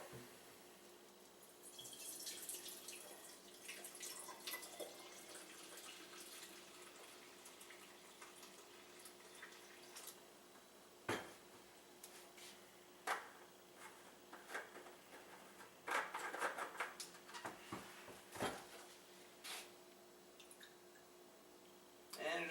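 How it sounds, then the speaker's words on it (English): Brewed liquid full of pulp is poured from a container through a strainer, giving a steady trickle with intermittent splashy gushes and drips over roughly twenty seconds, fairly close and moderately quiet. "And we're just going to pour."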